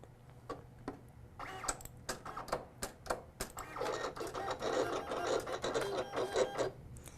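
A Silhouette cutting machine runs a test cut on stencil material, its motor whirring steadily with a dense series of rapid ticking and clicking strokes that grow busier and louder partway through, close and alone.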